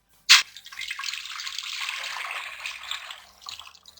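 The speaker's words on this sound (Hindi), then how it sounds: "इसके अंदर मैं डाल दूंगी यखनी।" Yakhni stock poured into a pot, opening with a sharp clink and then a steady close liquid pour and splash lasting about three seconds before trailing off.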